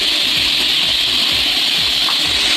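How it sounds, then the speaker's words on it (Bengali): Rice boiling in a pot gives a steady, close hiss with low, irregular bubbling underneath, and no voices. "আর ওদিকে বন্ধুরা আমার ভাত টকবক টকবক করে ফুটছে।"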